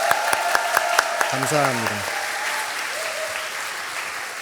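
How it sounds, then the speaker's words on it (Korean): A church congregation at a Seoul worship service applauds the children and youth, with dense clapping under someone speaking briefly over a microphone, the clapping fading toward the end. "다시 한번 박수 드리도록 하겠습니다"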